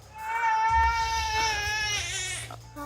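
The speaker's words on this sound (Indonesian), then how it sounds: "Loh, kok ada suara bayi?" A baby cries in sustained, wailing bursts, loud and close, with harmonic strained cries rising and falling over about three seconds and no speech over it.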